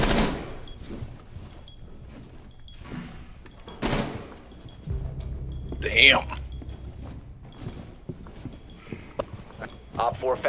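Gunfire in the video game Rainbow Six Siege, shots fired through a window during a casual match, appearing as a few sharp cracks amid footsteps and game sounds, with a player talking over it.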